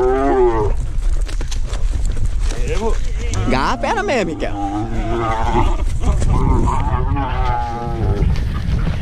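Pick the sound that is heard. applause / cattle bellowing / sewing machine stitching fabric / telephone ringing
cattle bellowing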